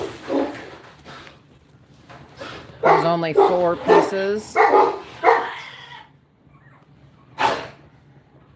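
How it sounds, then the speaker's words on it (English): Several dogs bark in short, punchy bursts at moderate distance, with a few scattered yips, mixed in with a person talking nearby. "I'm not sure what the dogs are barking at"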